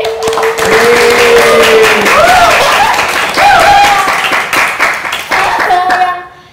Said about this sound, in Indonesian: tepuk tangan dulu dong buat art director